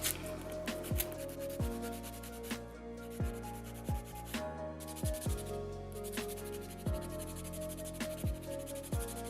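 Acrylic nails are filed by hand, giving rhythmic rasping strokes at a steady pace, close and fairly quiet, with no talking.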